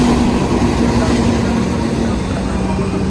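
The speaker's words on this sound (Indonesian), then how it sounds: "Dan ini adalah kereta api Argo Parahyangan dari stasiun Bandung" Argo Parahyangan passenger train from Bandung passing Cikarang station: a loud, continuous close rumble with a steady low tonal hum throughout.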